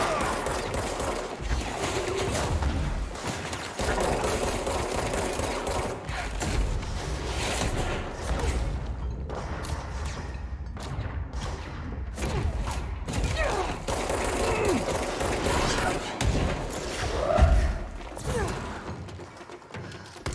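Gunfire crackles in a video game, dense bursts of rapid shots and thuds over a busy, loud backdrop, with brief pauses and a heavier impact near the end.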